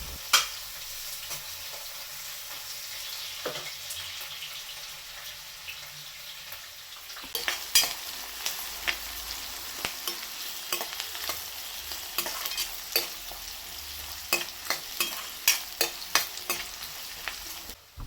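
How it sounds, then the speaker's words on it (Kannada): Onions frying in hot oil while being stirred for a healthy vegetable palya, a steady sizzle throughout with frequent scraping stir strokes growing busier in the second half, close and with no talk. "ಆಯಿಲ್ನಲ್ಲಿ ಆನಿಯನ್ ಚೆನ್ನಾಗಿ ಫ್ರೈ ಆಗಬೇಕು."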